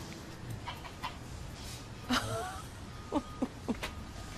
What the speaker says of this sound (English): he was befriended by a goose named Maria.